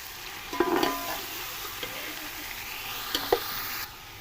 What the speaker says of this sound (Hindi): ये डालकर इसकी भुनाई करेंगे ताकि जो हमारा चिकन है वो अच्छे तरीके से उसके अंदर फ्राई हो जाए